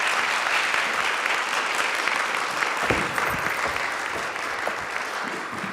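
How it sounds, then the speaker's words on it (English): Steady, full applause from an audience welcoming Dr. Debbie Joffe Ellis to the stage at a talk on rational emotive behavioral therapy, a continuous wash of clapping that stays strong throughout. "I'll just keep the applause going."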